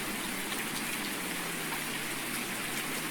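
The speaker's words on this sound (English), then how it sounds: "I can't get over how much rain there is on this map." Steady rain hiss in the farming video game Farming Simulator 19 on an English-style countryside map, a continuous, even wash of falling rain with no talk over it.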